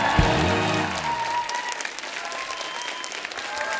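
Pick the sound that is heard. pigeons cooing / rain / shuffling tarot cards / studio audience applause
studio audience applause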